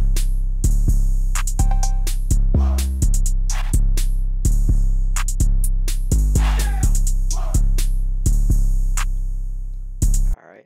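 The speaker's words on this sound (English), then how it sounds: "The full drums sound like this." A fully layered trap type drum pattern, with booming 808 bass hits and kicks under crisp, rapid hi-hats and snappy snares, loops in a steady driving rhythm, loud and alone without voices.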